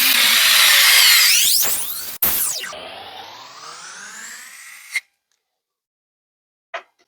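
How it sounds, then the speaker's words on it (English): Handheld cordless power screwdriver driving screws during assembly of a Samsung Jet 75 cordless stick vacuum mount, a loud continuous whirring motor run that winds down and stops, with a brief faint click afterward. "So I'm using the handheld screwdriver."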